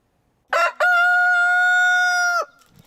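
A rooster crows once, loud and close, at a livestock-keeping community property with hens, goats, a pony and sheep. A short rising note comes first, then a long, steady, harmonic call that lasts almost two seconds before it cuts off.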